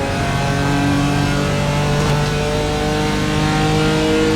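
A BMW M4 GT4 racing simulator engine held at full throttle, a loud, steady high-revving drone with sustained harmonic whine and no break for the whole stretch.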